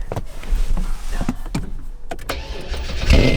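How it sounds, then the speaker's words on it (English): A Honda Civic EK with a newly fitted engine starts up: a quiet stretch of small clicks and mechanical shuffling, then the engine catches with a loud low burst near the end. "Let's hear the startup."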